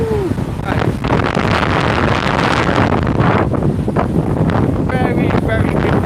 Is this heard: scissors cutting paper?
no